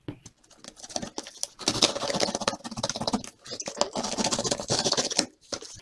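A Vans Old Skool sneaker box being opened with a knife, giving close scratching, scraping and rustling of cardboard and paper under a person talking.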